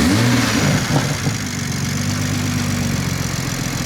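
A Toyota A90 Supra track car fitted with an AMS intake, its engine revving up near the start, then settling into a steady, loud idle-like drone.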